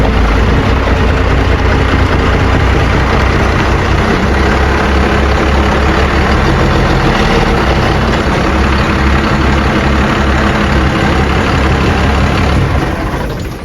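A vehicle engine runs loud and close, a deep steady rumble that holds evenly for over ten seconds before easing slightly at the end, with no talking over it.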